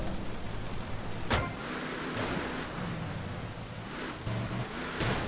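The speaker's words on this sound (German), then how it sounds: "Boah. Gewitter." Steady rain hiss during a thunderstorm in the video game GTA Vice City, with a sharp crack of thunder near the start and another burst near the end, plus low rumbling traffic underneath.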